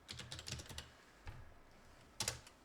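Fingers tap a computer keyboard in a few quick, light clusters of keystrokes, pausing briefly before a final firmer press, close and fairly quiet.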